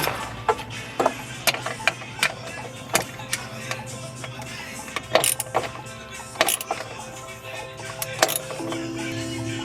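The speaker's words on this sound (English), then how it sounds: "socket, so I'm gonna tighten this bad boy down here" A socket ratchet tightens the trailing arm bushing bolt on a Civic or Integra rear suspension, giving close, rapid clicking in repeated bursts with short pauses between strokes.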